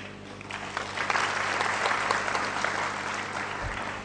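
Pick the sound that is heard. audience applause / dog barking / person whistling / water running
audience applause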